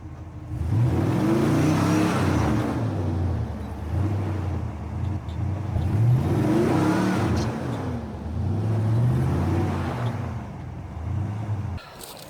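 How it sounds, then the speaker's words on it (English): A truck sunk to its frame in backyard creek mud revs its engine in repeated surges, rising and falling loudly and close as the wheels spin, then cuts off at the end with no voices. "I managed to get the truck stuck in the mud up to the frame."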